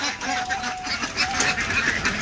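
Belgian ducks on a farm's pond give off a continuous stream of close, overlapping quacks and honking calls, with no voices heard.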